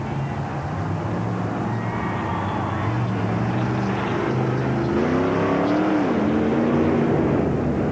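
A blown Chevrolet engine in a monster truck at a 1987 USHRA event in Seattle roars loud and steady, its pitch climbing and wavering as it revs, with crowd and arena noise beneath.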